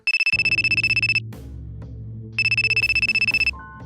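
A phone ringtone trills loudly in two bursts of rapid electronic pulses during a business negotiation, separated by a short pause, with a steady low hum underneath.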